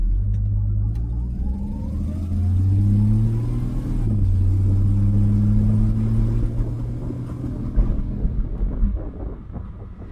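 A Ford Cortina 6 with a 4.1-litre engine accelerates hard on the road in hot weather, its engine note rising through gears with a loud droning roar and wind rush around the microphone, no talking.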